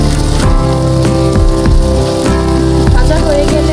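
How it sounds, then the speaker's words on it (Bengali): Fish heads frying in hot oil with a little turmeric give a steady, dense sizzle that crackles throughout the short stretch, set under background music. "আমি এখন মাছের মাথাগুলো ভেজে নেব।"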